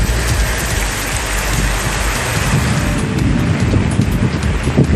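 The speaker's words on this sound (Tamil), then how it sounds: "தூத்துக்குடி மாவட்டம் கோவில்பட்டியில் ஆலங்கட்டி மழை பெய்தது." Heavy rain with hail and strong wind in Kovilpatti, Thoothukudi district, Tamil Nadu: a loud, dense, continuous hiss of rain pounding surfaces, with low rumbling gusts swelling toward the end and no voices.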